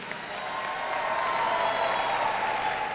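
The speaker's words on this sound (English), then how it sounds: "please give a round of applause to our 2017 Executive Master of Leadership" Steady audience applause at a 2017 university commencement ceremony honoring Executive Master of Leadership graduates, a dense wash of many hands clapping that builds slightly and holds evenly throughout, with no voices over it.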